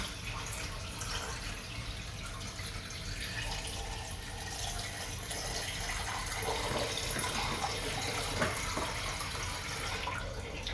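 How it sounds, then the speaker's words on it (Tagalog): Tap water runs steadily over a clean egg being rinsed once in a sink, a constant close splashing hiss with small irregular splatters as the egg is turned under the stream. "Sinugasan ko lang siya ng isang beses guys kasi malinis na yung egg"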